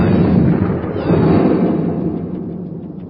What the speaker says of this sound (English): All ships prepare to fire Kriston cannons.